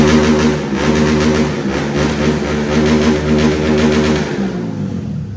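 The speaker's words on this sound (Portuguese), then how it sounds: "Um corte de giro pra vocês aí, ó." A remapped car engine with an aftermarket exhaust is held high against the rev limiter, giving a loud, close, sustained roar with a slight rapid pulsing before it falls away at the end.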